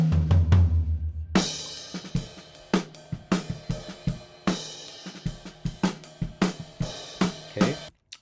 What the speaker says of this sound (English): Okay, so that's the sound of the drums for now.